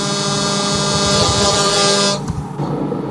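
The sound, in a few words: truck air horn in Truckers MP video game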